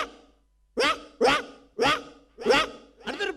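A human voice imitates a poor household's dog barking, giving five loud, separate bark-like yelps in a steady rhythm, each short and close, with a brief silence before the first.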